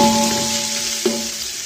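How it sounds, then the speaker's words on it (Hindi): Minced keema frying in a pan, a steady broadband sizzle like light rain throughout, with a low tonal hum underneath and one brief stir or clink partway through. "कीमा देखिए अच्छे से फ्राई हो चुका है"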